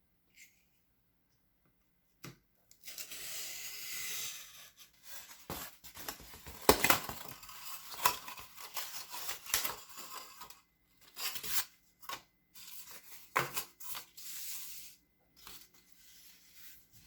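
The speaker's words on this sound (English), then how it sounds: "I'm going to go ahead and cut these out" Scissors cutting out traced paper pieces for a castle room box craft, quiet intermittent snipping and rustling strokes close by, no talking.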